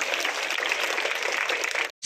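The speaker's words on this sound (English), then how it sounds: "Yes, the claps should go on." Dense, steady applause from an audience at a school building inauguration, sustained and fairly close for nearly two seconds before cutting off abruptly.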